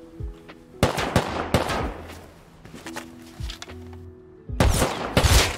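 Bursts of gunfire in a shooter video game, several loud, close volleys in quick succession with short gaps between them, ending in a dense double burst.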